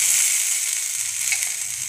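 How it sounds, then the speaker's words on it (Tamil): Curry leaves sautéing in a pan for a curry leaf and coconut chutney give off a steady, bright sizzle that continues with no pauses, with faint low clatter underneath and no talking. "அடுத்து கருவேப்பிலை நல்லா வதக்கி எடுத்துக்கலாம்."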